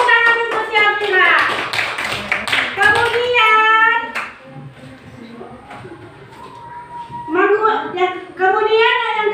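Children in an Indonesian classroom clap for a classmate named Syafira during a Quran translation lesson, a short burst of rhythmic hand claps mixed with the teacher's voice talking loudly before and after.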